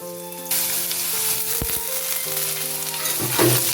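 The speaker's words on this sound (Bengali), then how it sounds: "প্রথমে আলু ভেজে নিচ্ছি।" Thinly sliced potatoes hit a hot pan and burst into a loud, steady sizzle, with a few utensil clinks and stirring near the end.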